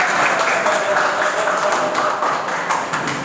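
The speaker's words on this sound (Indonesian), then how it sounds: "Mari kita sambut dengan tepuk tangan." Clapping from an audience welcoming a company director at a press event for a Hyundai dealer group, a loud steady burst of applause filling the room with some crowd murmur.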